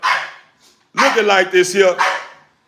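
American Bully dogs bark and yip close by in short loud bursts, a cluster of rapid barks following a brief earlier yelp.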